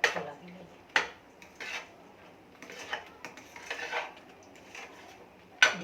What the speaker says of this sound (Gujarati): સિંગદાણાનું મિશ્રણ છે એમાં ઉમેરી દઈશું અને એને હલાવી લઈએ